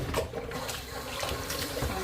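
Tap water runs steadily into a sink while a raw turkey is rinsed and cleaned in a home kitchen, a continuous splashing wash with no talk.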